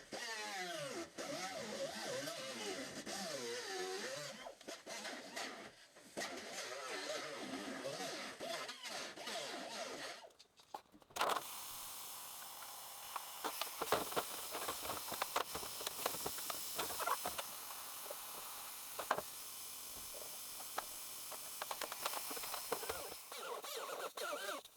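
A whiz wheel cut-off tool grinding through a part: a continuous harsh, hissing abrasive whine, steady and loud. After a brief dip it resumes with rougher, gritty texture and scattered crackling bursts.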